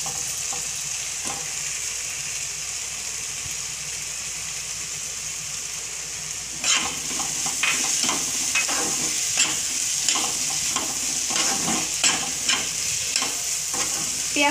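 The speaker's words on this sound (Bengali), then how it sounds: "পেঁয়াজ পাতা দিয়ে মিনিট 2 নাড়ার পরে আমি এবার দিচ্ছি আদা বাটা।" Spring onion greens are stirred into a softened tomato masala for egg curry, with a steady soft sizzle throughout and repeated scraping spoon strokes starting about halfway; no one speaks.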